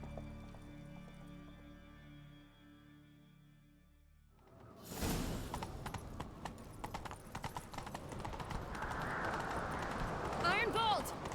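Horse hooves galloping in The Witcher 3 video game, entering abruptly after quiet music as a loud, rapid clip-clop rhythm that continues to the end with rushing movement sounds.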